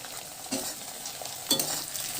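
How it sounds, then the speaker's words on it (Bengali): Onion, tomato and green chili fry in a pan, a steady soft sizzle broken by two brief stirring scrapes, close and clear with no talking. "ভালো করে নাড়াচাড়া করে নিয়ে একটু কিছুক্ষণের জন্য আমি ঢাকা দিয়ে দেব তাতে করে টমেটোটা ভাজা হওয়ার সাথে সাথে টমেটোটা তাড়াতাড়ি নরম হয়ে যাবে"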